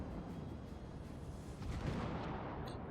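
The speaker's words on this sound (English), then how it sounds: "I'm going to have to deal with him with my main battery." In World of Warships, the USS New York's main battery guns fire in a heavy, rumbling roar that fills the whole moment, swelling slightly midway, with a faint high tone appearing near the end.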